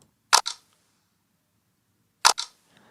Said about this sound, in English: I really like the sound of the cassette.